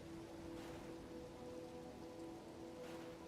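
Steady rain falling in a video game, a soft continuous hiss of drops with a faint low tonal hum underneath, quiet and unbroken with no speech.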